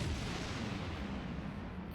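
Explosion blasting through a door in the video game Star Trek Online, a loud, dense booming roar that fills the whole moment and fades only slightly.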